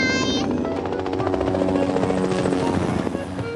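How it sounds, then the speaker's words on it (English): A cartoon helicopter passing overhead, a loud, steady rotor chop with a rapid pulsing beat that fills the whole stretch, close and continuous, with a brief tonal sound at the start and no clear speech. "A helicopter appeared way up in the sky."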